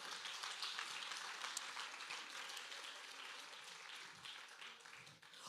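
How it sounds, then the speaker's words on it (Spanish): A church congregation applauds, a steady dense patter of many hands clapping together, sustained and fairly distant throughout with no clear voices. "dar un aplauso a ese Dios"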